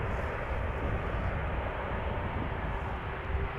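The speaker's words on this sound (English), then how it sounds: "E2 Embraer 195 arriving from Munich." An Embraer E195-E2 airliner arriving from Munich at Amsterdam Schiphol makes a continuous low, distant roar, steady and unbroken with no talking.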